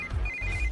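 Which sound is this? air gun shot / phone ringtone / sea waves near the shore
phone ringtone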